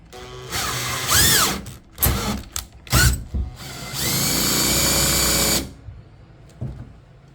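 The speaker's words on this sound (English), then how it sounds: "And now I'm going to drill the hole now." A power drill bores a larger hole in a Brooklyn PK13 kayak for a navigation light fitting, starting with short whining bursts and then running steadily for about two seconds before winding down, close and loud.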